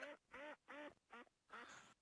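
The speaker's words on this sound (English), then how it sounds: "The duck noise might be my Facebook chat going off. Okay, I hear a duck too." Duck quacking in five loud, nasal calls in a steady run, close and clear with no talking over it.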